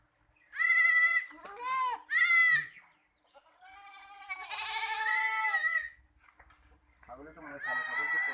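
A goat bleats on a pig farm in Tinsukia, several loud, wavering cries in quick succession close to the microphone, with a brief pause between calls and a lower grunting animal sound near the end.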